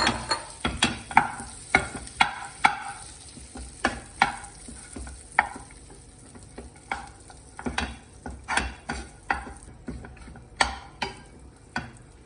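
Dates being stirred in a pan with a tablespoon of melted fat, a spoon scraping in repeated close, rhythmic strokes over a soft sizzle, with no talking.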